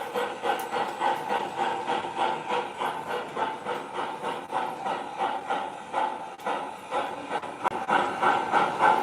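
An MTH model steam train engine chuffs in a steady, even rhythm for several seconds, with a faint hiss, moderately close and alone without talk.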